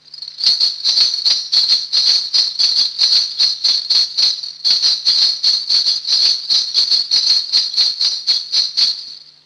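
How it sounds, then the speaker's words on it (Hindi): Large ghungroo ankle bells rattle in rapid, evenly spaced jingling pulses, loud and near, with a brief pause midway, played alone for a classical Indian music demonstration. "अब बड़े घुंघरू की आवाज हम सुनते हैं।"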